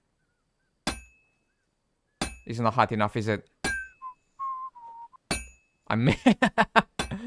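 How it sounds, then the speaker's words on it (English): A hammer strikes hot metal on an anvil at a blacksmith's forge in Kingdom Come Deliverance 2, giving five sharp, ringing clangs spaced a second or more apart, with someone talking between the blows. "Now we have to hammer it a little bit."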